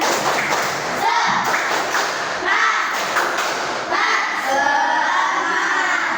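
A room of people at a teacher-training class clap their hands together in rhythmic bursts. The clapping comes in several rounds, mixed with children's voices and shouting throughout.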